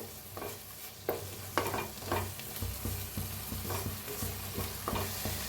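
Cooked egg masala stirred in a frying pan, a gentle sizzle running throughout with repeated soft scrapes and knocks of the spoon at an uneven pace, fairly quiet and close, no voices.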